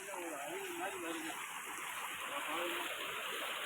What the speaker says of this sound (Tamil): ஒரு வாய்க்கால் இருக்கு, வர தண்ணி அழகான சின்ன ஒரு அருவி மாதிரி வருது